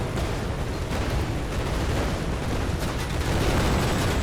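Dense, continuous roar of orbital cannon explosions in a video game, heavy booming blasts blending into one loud wash of noise.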